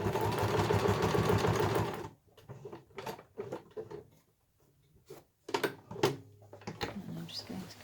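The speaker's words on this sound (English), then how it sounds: "once you've sewn the square, sew the cross through it" A sewing machine stitches fabric for an eco shopper bag, running in a steady close whir for about two seconds before giving way to scattered clicks and handling noises.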